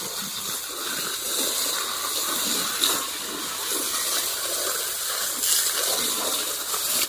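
Water sprays steadily onto a small flowering plant, a continuous close hiss with slight surges and no pauses.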